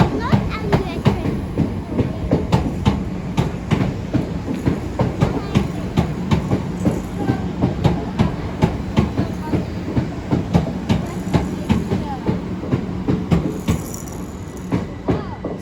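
A passenger train pulling out of a station in London, with a steady, close rhythmic clatter of wheels over rail joints and voices talking over it.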